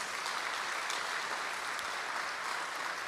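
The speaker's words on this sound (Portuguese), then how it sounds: "aplaude o Senhor pela fé para essa surpresa" A church congregation applauds in a continuous, even patter of many hands clapping, fairly faint and steady throughout with no clear voices over it.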